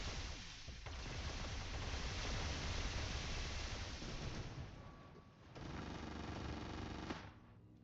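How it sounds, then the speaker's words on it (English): Robot weapons fire in the WarRobots mech combat game, a dense continuous barrage of automatic gunfire that runs nearly the whole time, briefly thinning before surging again, loud and close. "Somebody's shooting at me."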